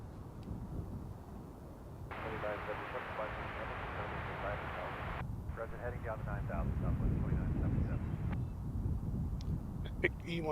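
Epic E1000 airplane arriving at Reno from Denver, a faint, distant engine drone rising gradually under background wind noise, with radio-like voice fragments and chatter in between.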